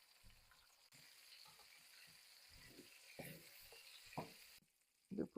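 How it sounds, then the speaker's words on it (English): Mushrooms fry in a pan for a beef stir fry, giving a soft, steady sizzle with occasional stirring clatter and louder utensil knocks near the end, fairly faint and with no talking. "So I'll be frying the mushroom now"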